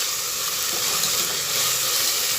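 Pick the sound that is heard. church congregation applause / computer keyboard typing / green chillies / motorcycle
green chillies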